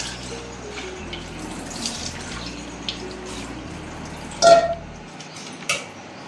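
Water being strained off cooked little millet (saamai) in a kitchen, a soft steady trickle and drip with a brief louder splash near the end, close by.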